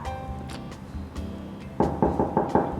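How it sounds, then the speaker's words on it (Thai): Five sharp, evenly spaced knocks on a door ring out close and loud, following a quieter stretch of background music and soft room noise. "กี้เปิดประตูให้ฉันหน่อย"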